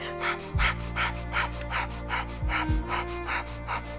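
Rapid rhythmic breathing from a Kundalini yoga class, a fast, even series of forceful nasal pumps repeating about twice a second, close and alone over a low steady background hum.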